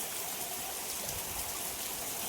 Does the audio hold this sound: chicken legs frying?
no